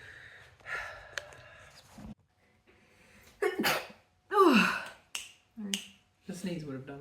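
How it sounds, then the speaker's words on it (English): A single sharp, close sneeze bursts out amid quiet breathing, gasps and soft vocal sounds, with brief pauses between them. "The sneeze would have done it."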